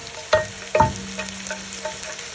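Meat for a tomato stew fries in olive oil in a pan with a steady sizzle, broken by two sharp utensil clanks early on and lighter scraping taps afterward.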